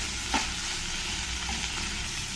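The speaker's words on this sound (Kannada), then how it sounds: "ಈರುಳ್ಳಿ ಜೊತೆ ಜೊತೆಗೇನೆ ಇದು ಫ್ರೈ ಆಗಬೇಕು ಚೆನ್ನಾಗಿ" Onions and broccoli fry in oil with a continuous, even sizzle, close and fairly quiet, with one faint clink near the start.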